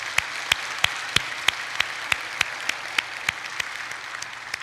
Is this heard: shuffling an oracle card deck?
no